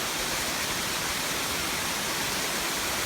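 Silver Waterfall in Sapa, second tier, in winter: a steady, loud, broadband rush of falling water that holds unchanged throughout, with no voices.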